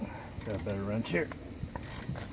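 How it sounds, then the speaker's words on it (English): Ratchet wrench loosening the lug nuts on a Honda Pilot wheel in a garage, a quick run of clicking mechanical ratcheting with a higher whine or squeal at close range. "Got a better wrench here."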